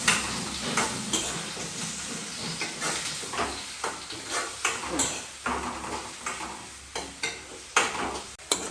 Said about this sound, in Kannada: ಕರಿಬೇವು ಒಂಜಿ ರೆಡ್ ಪೂರ ಪಾಡ್ದು ಸರಿ ಗೋಲ್ಡನ್ ಕಲರ್ ಬರ್ಕೊಂಡತೆ ಆ ಲೆವೆಲ್ ಕೊಟ್ಟ ಫ್ರೈ ಮಾಡ್ಕೊಂಡಿದ್ದೇನೆ